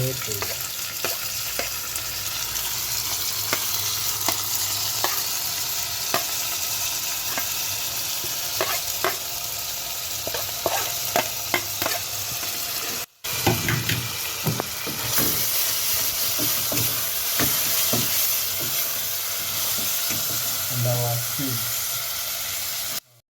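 Chili, onion and tomatoes fry in a hot pan for Kenyan cooking, a continuous loud sizzle with scattered crackles and spatters, with occasional stirring scrapes and a brief break partway through.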